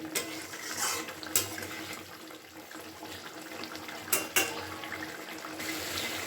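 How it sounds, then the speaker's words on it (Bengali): Katla fish curry simmering in a pot while being stirred, with a steady bubbling hiss and a few sharp clinks and scrapes of a spoon against the pan. "মাছটা দিয়ে আবার একটু কিছুক্ষণ নাড়াচাড়া করে আর একটুখানি আমি ফুটিয়ে নিচ্ছি"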